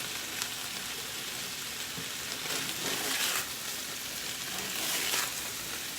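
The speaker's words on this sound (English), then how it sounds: "These are looking good, sizzling pretty nice." Meatballs sizzle and crackle steadily in a frying pan on an electric stove, a continuous hissing fry with slight swells in intensity.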